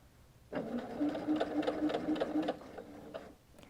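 A sewing machine stitches a seam on a mitered frame napkin in quilting work, starting abruptly and running at a steady, reduced speed with a rapid even needle chatter, close up, for about two seconds before winding down.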